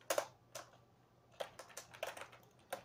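Sparse keystrokes on a computer keyboard while typing Python code: a few close, crisp clicks in small irregular clusters with quiet gaps between them, and no talking.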